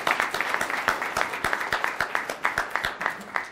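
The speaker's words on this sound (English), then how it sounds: "Give him a round of applause for being with us today." An audience at an MLK celebration in Conway, Arkansas, applauds UCA president Houston Davis with brisk, rhythmic clapping in distinct bursts, close and fairly loud in a large room.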